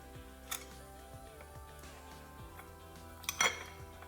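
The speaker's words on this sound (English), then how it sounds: "Drop in my cashews." Cashews dropped into a bowl while making banana blossom salad with beef, giving a few light, close clinks and rattles in a quiet kitchen, with a sharper cluster of taps near the end.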